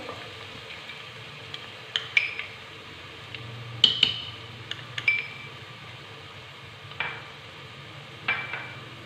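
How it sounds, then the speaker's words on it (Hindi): Finely chopped ginger fries in a pan with a faint, steady sizzle, broken by a few sharp spoon taps and stirring clinks at uneven intervals, quiet and close, with no voices. "एक से 2 मिनट के लिए इसे फ्राई कर लेंगे।"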